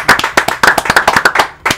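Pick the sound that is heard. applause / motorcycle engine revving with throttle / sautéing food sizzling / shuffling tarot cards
applause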